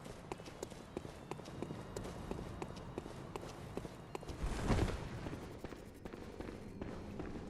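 Heavy, plodding footsteps of a sack-carrying enemy in the game Bloodborne, a steady series of faint thuds under quiet ambient game sound, with a brief louder swell midway.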